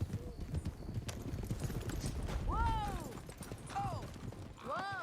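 Horse hooves clip-clop in Red Dead Redemption as a rider remounts, a busy run of close hoofbeats with neighs and whinnies rising over it, plus a voice talking underneath.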